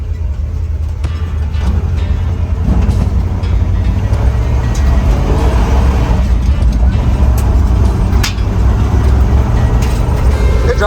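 Jeep J20 pickup truck rolling along a rough country road, steady loud engine drone and low rumble throughout with intermittent rattles and clunks from the rough surface, no voices.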